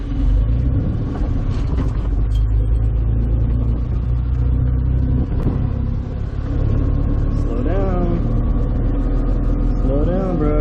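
A classic Fiat 500 with manual gearbox accelerates, its small engine droning and rising loud and close from inside the cabin while people talk over it.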